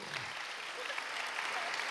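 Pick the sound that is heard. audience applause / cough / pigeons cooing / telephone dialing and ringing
audience applause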